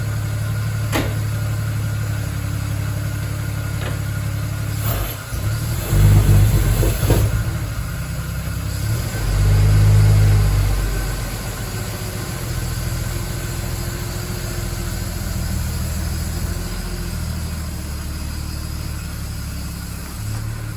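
A Mk 1 Super Snipe car engine idles steadily close by for the whole stretch, with two louder surges around the middle where it is revved before settling back to a low rumble.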